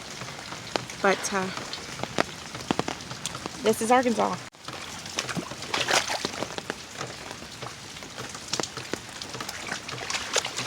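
Heavy rain pours steadily onto a yard in Arkansas during a stormy downpour, a dense constant hiss with scattered sharper drops, while a person talks intermittently over it.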